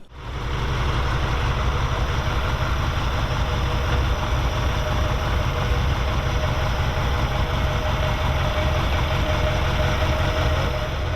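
A Ferrari 308 engine idles too slowly, steadily and loudly, a continuous low rumble with a slightly uneven, pulsing beat throughout.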